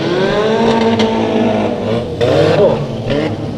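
Race cars lapping during a 50-lap enduro at Bakersfield Speedway, with loud, continuous engine roar and cars sweeping past, pitch rising and falling as they pass close by.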